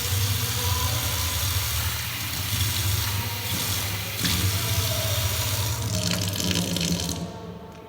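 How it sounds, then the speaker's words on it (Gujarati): Tap water runs into a glass, a steady close rushing stream with a low hum beneath, holding level for about seven seconds before cutting off. "પહેલાં આપણે પાણી ભરી લઈએ."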